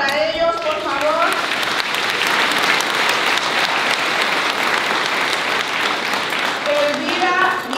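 A crowd gathered for a Guadalupe torch run event applauds loudly and steadily, the clapping swelling in the middle while voices speak and call out near the beginning and end.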